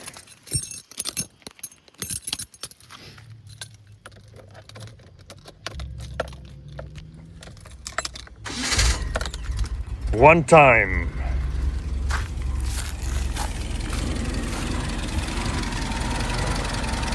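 Nissan Skyline engine cranking and catching after a quiet stretch with key jangling, then settling into a loud steady idle; someone speaks briefly before the start.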